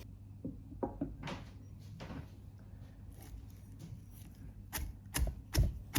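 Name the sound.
pounding salt and chilli in a mortar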